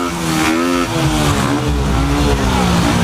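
A loud old motorcycle engine revs steadily close up, its throaty rumble rising and falling without pause.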